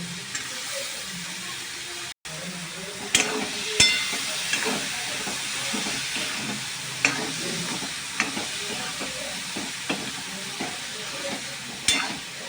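Chicken and potatoes fry together in a pan for a chana dal curry, a continuous near hiss and sizzle broken by repeated stirring scrapes and occasional sharp spoon knocks.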